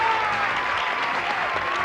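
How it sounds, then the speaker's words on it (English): A studio audience on a TV game show set cheers and applauds loudly and steadily, a dense wash of clapping with whoops mixed in throughout. "Enthusiastic crowd over there now"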